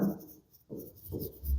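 Chalk or marker scratches across a board in two short bursts of writing strokes, close and moderately quiet, with a brief pause between them.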